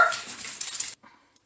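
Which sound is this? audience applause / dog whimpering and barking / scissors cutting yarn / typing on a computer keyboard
dog whimpering and barking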